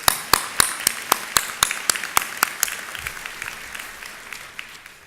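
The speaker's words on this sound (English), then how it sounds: "Please applaud him, everyone." Enthusiastic applause from a crowd at a university presidential inauguration ceremony, many hands clapping in a dense burst that starts loud and slowly thins out, with no voices over it.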